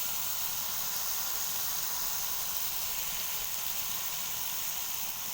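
Masala roasting over a high flame for aloo gobhi curry gives off a steady, faint hissing sizzle that stays even and unbroken, with no voices over it.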